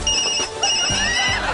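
A phone plays a fart-sound ringtone in an office, a brief continuous burst of buzzy, tooting tones with low sputtering pulses.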